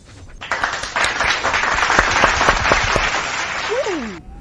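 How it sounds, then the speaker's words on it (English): A round of applause and clapping starts abruptly, holds at a dense, loud and even level for about four seconds, then cuts off sharply, with a brief whooshing sweep near the end. "let's give a big round of applause to all the viewers in the chat"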